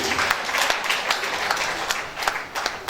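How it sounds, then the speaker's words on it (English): An audience at an investiture and executive committee induction ceremony claps steadily, a dense patter of many hands at moderate volume with no voices over it. "Can we give the 4 of them a louder round of applause, please?"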